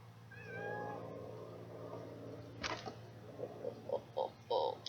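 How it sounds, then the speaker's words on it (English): A pet cat meows several times in short, clear bursts toward the end, fairly close and alone, after a sustained tonal sound earlier over a steady low hum. "Oh, kitty meows."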